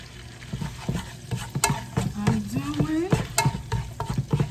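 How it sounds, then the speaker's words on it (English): Chopped tomato being stirred and sautéed in a pan while cooking Haitian-style spinach with beef and shrimp, with steady sizzling and repeated scraping clicks of a utensil against the pan, close up. "I'm adding some tomato. I'm gonna cook some tomato in there."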